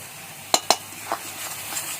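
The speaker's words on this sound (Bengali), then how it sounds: "সমস্ত মশলা কষানো হয়ে গেছে।" Spices including Kashmiri chilli, garam masala and kasuri methi stir-fried in a pan for a spinach egg curry, with two sharp utensil scrapes near the start, then a softer one, over a faint steady sizzle.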